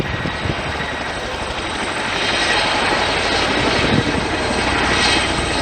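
A Chinook helicopter roars through a flying display at an air show, its heavy twin-rotor thrum and engine drone steady, loud and broadband, swelling slightly as it nears, with no talk over it.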